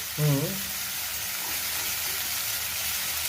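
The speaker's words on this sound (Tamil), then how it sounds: "இந்த குடமிளகா சேர்த்துக்கலாம்" Chopped capsicum drops into a hot pan of pasta chaat and sizzles, a steady broad frying hiss running throughout, with a brief clatter near the start.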